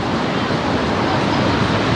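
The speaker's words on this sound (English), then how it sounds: "fountains spraying" A steady, loud hiss of spraying fountain water fills a Paris roundabout, constant and unbroken with no voices over it.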